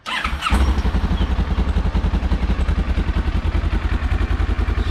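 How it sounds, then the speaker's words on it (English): A Kawasaki Ninja 650R twin-cylinder motorcycle engine cranks and catches, then settles into a loud, lumpy, steady idle with a pulsing rhythm up close. "Starts right up. Now it is a 650R twin cylinder, so they don't sound the greatest."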